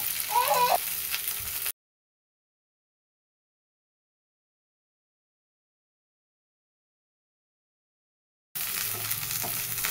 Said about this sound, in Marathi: परतून घ्यायचं ह्याला थोडंसं डाग पडेपर्यंत